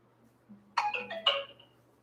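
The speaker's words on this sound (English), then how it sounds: "Sounds like my phone needs to be charged." A phone gives a short electronic alert chime, a quick rising run of bright tones heard once, close and clear in an otherwise quiet room.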